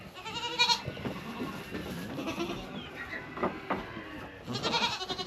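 Dairy goats, including young kids, bleat on a homestead farm, a couple of loud, wavering calls near the start and a longer one at the end, with quieter animal noises in between.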